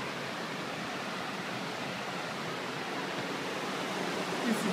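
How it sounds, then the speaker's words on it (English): A natural waterfall rushes in a constant, broadband roar, steady and unbroken throughout, heard from some distance with no other sounds standing out. "That's the natural waterfalls."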